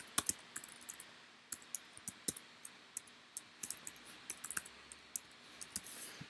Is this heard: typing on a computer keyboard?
yes